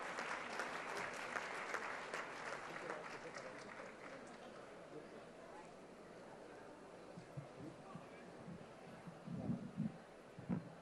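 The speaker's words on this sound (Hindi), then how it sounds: "मैं चाहूँगी कि आप ज़ोरदार तालियों से स्वागत कीजिए" Audience applause welcoming a poet at a literary festival's poetry gathering in Delhi, loud clapping at first that thins out, with faint voices and crowd noise underneath.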